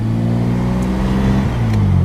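A 1952 Chevrolet Bel Air with a 235 straight six, Offenhauser manifold, dual Rochester carbs and split dual exhaust drones steadily on the move, a close, even low rumble with no voices.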